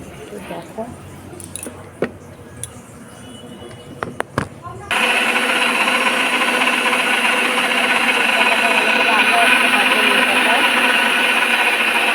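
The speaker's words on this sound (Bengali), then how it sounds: "যতক্ষণ আমি ব্লেন্ডারটা করে নিই নিম পাতা" An electric blender grinds neem leaves in a home kitchen; after a few clicks and clatters it starts up into a loud, steady whirring roar that runs without a break.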